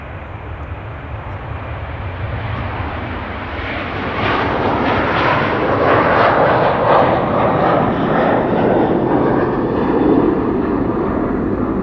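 A KLM Airbus A330-200 roars down runway 09 on takeoff, a loud broad jet rumble building and swelling as it passes close by, with no talk.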